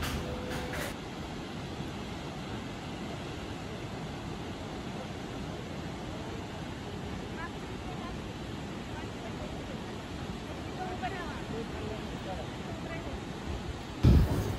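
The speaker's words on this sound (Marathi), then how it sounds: "आम्ही जो आवाज अनुभवला धबधब्याचा, ते वातावरणाचा जो सुंदर आवाज येत होता तो आवाज तसाच आम्ही सोडतोय" Steady roaring wash of Thoseghar waterfall in Satara, Maharashtra, a year-round falls, filling the scene as a continuous broadband rush with no talk, ending in a brief loud knock.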